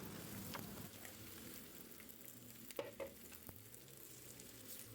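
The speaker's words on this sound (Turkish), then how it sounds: "Havuçları 2-3 dakika boyunca güzelce kavurduktan sonra şimdi hemen kabaklarını ilave ediyorum" Carrots and zucchini sauté in a hot pan, a steady close sizzle with occasional scraping stirs and a brief clatter of the utensil midway, no voices.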